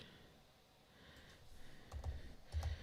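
Fingers tap out text on a computer keyboard with soft, quiet clicks. The keystrokes come in a short uneven burst that grows slightly busier toward the end, with no voices over them.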